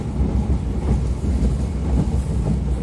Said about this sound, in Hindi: ग्रेडियंट देखिए यहाँ से. ऑसम ग्रेडियंट है. ट्रेन खींचती कैसे है.